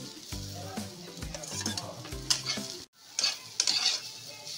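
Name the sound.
potatoes added to frying bitter gourd, stirred in pan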